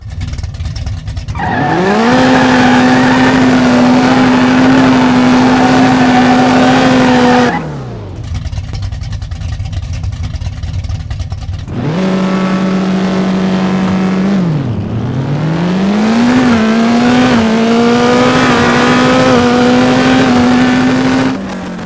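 A naturally aspirated drag car in the No Limit Drag Racing 2.0 game screams through a loud, sustained engine roar with rising pitch. A short drop is followed by a second long full-throttle run with gear shifts. No voices.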